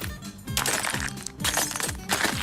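Cartoon sound effect of glass marbles being crunched: repeated sharp, gritty crunching bursts in a quick irregular rhythm, close and fairly loud.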